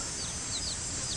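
Chickens foraging outdoors in an unfamiliar, rough setting, giving faint intermittent clucks and chirps over a steady wash of background noise, with no talking.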